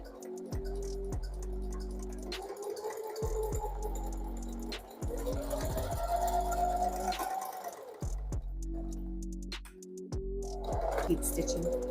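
A sewing machine stitching two hair wefts together, close by, with stop-start runs of rhythmic stitching and ticking mechanical clicks between pauses.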